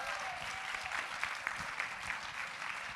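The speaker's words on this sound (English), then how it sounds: "How about another round of applause for this amazing film?" An audience after a film screening claps in sustained applause, a dense patter of many hands at moderate distance that continues evenly for a few seconds without voices.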